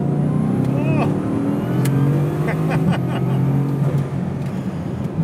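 A Bugatti Chiron Sport pulling hard in second gear on a test drive: a loud, sustained engine roar with climbing tones fills the clip, with voices underneath.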